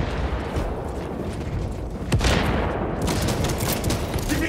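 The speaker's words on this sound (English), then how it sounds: "Giving them a shrapnel bomb!" Explosive blast of a shrapnel bomb in the Warhammer 40000: Space Marine 2 video game on PS5, a dense, noisy rumble of gunfire and detonations with a sharper burst partway through, loud and continuous throughout.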